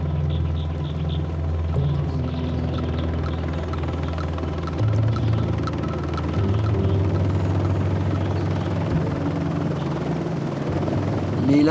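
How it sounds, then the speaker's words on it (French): A helicopter on a medical evacuation flight into the remote Makay region of Madagascar, its steady rotor thrum and low engine drone loud and continuous throughout, with no talk over it. "il y a maintenant la possibilité de faire venir un hélicoptère qui arrive jusqu'ici"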